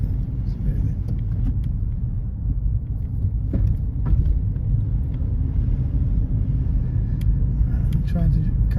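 A car moves off and drives along a driving-test route in Isleworth, its low engine rumble and road noise steady inside the cabin, with people talking over it.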